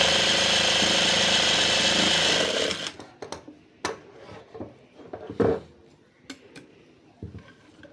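A sewing machine stitches a hooks patti (hook strip on fabric) with a loud, steady rapid whir for nearly three seconds, then stops, leaving soft scattered clicks and handling taps.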